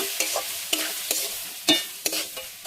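A spoon stirs semolina through fried vegetables in a pan for spicy suji, giving repeated scraping strokes in an uneven rhythm with a light sizzle beneath, close and clear with no talking.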